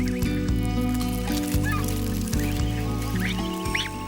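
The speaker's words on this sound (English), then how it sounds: "Into the sunlight of a brief Arctic summer in Russia struggles a snow goose chick." A snow goose chick in the Arctic summer of Russia peeps in short high calls over a loud, steady bed of music, the calls faint and scattered.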